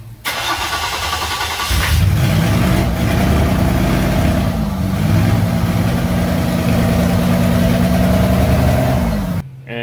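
A poorly running diesel engine fitted in a cheap C3 Corvette cranks and catches, then settles into a loud, close, steady rumble with a dip in revs midway before cutting off abruptly.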